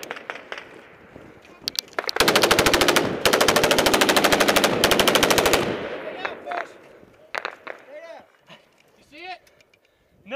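Bursts of automatic gunfire ring out during a firefight in Afghanistan, a dense sustained volley of rapid shots lasting several seconds, loud and close, followed by scattered single shots and shouting voices.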